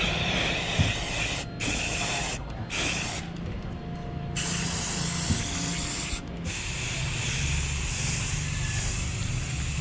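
An aerosol spray can cleans dirty stereo wiring in a camper van, giving loud, close hissing bursts separated by several short pauses.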